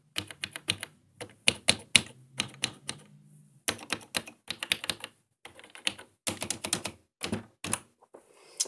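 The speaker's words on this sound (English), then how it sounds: "Full keyboard, mechanical key switches." Mechanical key switches on a TRS-80 Model 100 portable computer clack in quick, crisp bursts of typing, separated by short silent pauses, close and alone in a quiet room.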